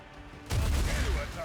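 A grenade in Warhammer 40,000: Rogue Trader goes off as a sudden heavy boom partway through, its low rumble lingering to the end beneath a faint voice.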